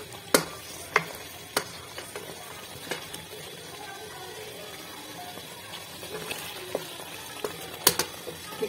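Lahori-style chicken karahi frying in a pot while being stirred, with sharp metallic clanks of the spoon against the pot over a moderate sizzle and brief background voices.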